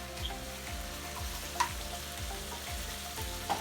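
Bacon goes back into a sizzling pan of brandy cream sauce made with bacon grease, giving a low steady bubbling sizzle, with rhythmic soft thuds and one sharper clink in the middle.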